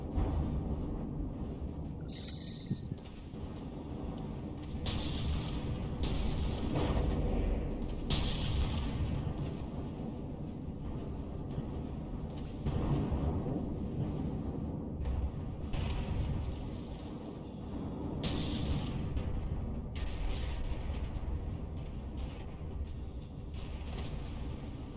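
Battleship guns boom in repeated heavy bursts in the naval combat game Battleship Brawl. One gun is damaged and firing at a reduced, stuttering rate, and the shots sound over a constant low rumble with no talk.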